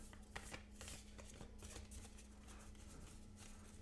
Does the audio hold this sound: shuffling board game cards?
yes